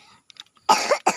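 A person coughs close by, two sharp harsh bursts after a few faint small sounds, the second cough shorter than the first.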